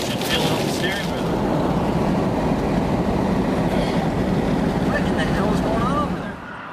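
Strong storm wind howls around a vehicle on a storm chase in the central USA, a loud, steady roar filling the whole stretch before easing slightly at the end, with faint voices underneath.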